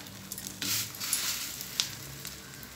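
Vermicelli roasting in butter in a pan gives a steady soft sizzle, with a few scraping stirs and light crackles close by and no voices.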